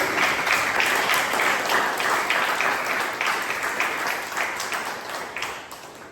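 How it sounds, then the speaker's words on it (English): An audience at a Toastmasters club meeting gives a big round of applause, a thick wash of clapping that stays strong, then slowly tapers in loudness toward the end. "let's have a big round of applause for our team"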